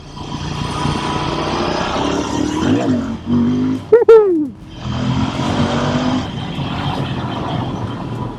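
A stock Royal Enfield Interceptor twin-cylinder motorcycle is ridden hard, its engine droning loud and close, then a sharp rising-falling rev burst around the middle before the steady riding roar resumes.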